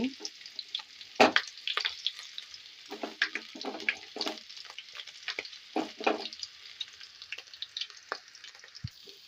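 A ground ginger, garlic and fennel paste frying in a pan for pepper chicken, crackling bursts and wet spitting sizzles coming in uneven clusters, moderately loud and close.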